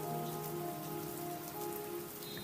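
Steady rain falls and patters on surfaces, a dense continuous wash of drops close by with no voices.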